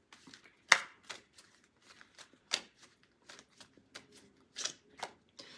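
Tarot cards being shuffled in quiet, irregular bursts of papery riffles and flicks, one sharp snap early on, then softer scattered shuffles, close and fairly faint.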